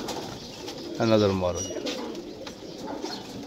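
One short, throaty coo from a pigeon being shown for sale at a dera in Jhelum rises briefly over low background noise, with someone speaking just before and after it.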